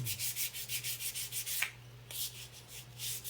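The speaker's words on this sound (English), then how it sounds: "Now I'm gonna sand off the sign" Sandpaper rubbing back and forth on a painted wooden sign, a rhythmic series of close, raspy strokes about every quarter second, briefly pausing midway before resuming.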